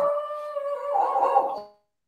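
A single dog howls in one sustained, wavering tone lasting under two seconds, moderately loud and close, then cuts off into silence.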